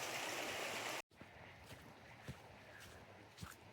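A mountain brook at High Shoals Falls in Hiawassee, Georgia, pours in a continuous close hiss, cut by a sudden momentary gap near the start before the flowing water resumes with faint scattered splashes.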